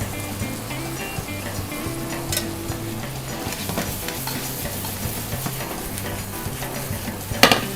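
Onions and mushrooms stir-fry in a pan over high heat, a steady loud sizzle with occasional stirring scrapes and clatter, continuous and close, no voices.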